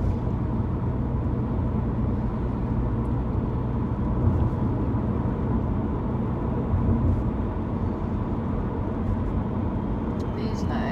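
Car engine hum steadily underneath a driving test on roads around Enfield, a continuous low rumble with no clear rise in pitch as the car speeds up, while people talk throughout.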